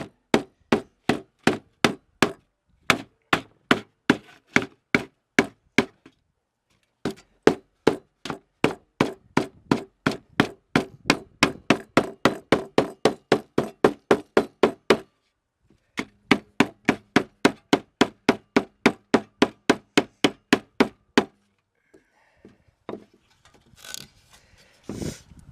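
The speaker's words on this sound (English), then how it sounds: "now I'm going to use the hammer to bend these all over" Rapid, evenly spaced hammer blows strike metal to bend it during a van build, in long bursts with short pauses between runs, sharp and close, ending with a few scattered knocks.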